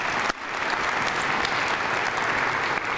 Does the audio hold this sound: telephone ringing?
no